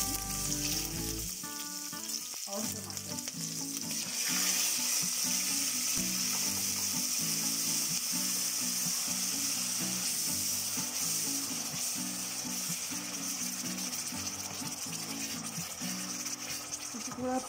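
Hing, cumin and chopped green chilies sizzle in hot oil for Punjabi chole, a loud, steady frying hiss with rhythmic clinks of a spoon stirring the pan throughout and no talking.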